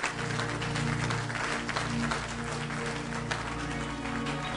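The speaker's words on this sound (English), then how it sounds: "Oh, clap unto him" A church congregation claps during a sermon, continuous mid-distance applause with a steady hum underneath and no speech over it.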